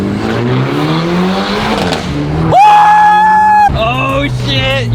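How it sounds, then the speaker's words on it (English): A car with an M Sport steering wheel roars as its engine revs hard and loud, with the pitch climbing, then a sustained high scream and another sharp rise, all close and overpowering. "this car sounds crazy"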